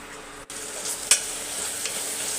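Drumsticks frying in a pan with masala, tomato, onion and ginger garlic paste for sambar, a steady close sizzle with stirring scrapes and one sharp clack near the middle.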